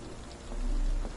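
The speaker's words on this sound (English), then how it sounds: "Just the top hat getting wet from the rain." Light rain patters steadily in the Sherlock Holmes The Awakened game, a soft, quiet hiss of falling drops that swells slightly midway with a low rumble beneath.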